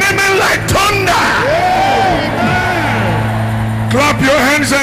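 A church congregation shouting amen together, a loud massed roar of voices that swells and falls, with yelling and whooping rising above it.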